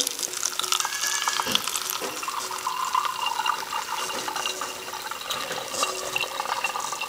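Fresh goat milk poured through a funnel strainer lined with a coffee filter, a continuous close splashing and trickling stream that stays fairly even throughout, with no voices.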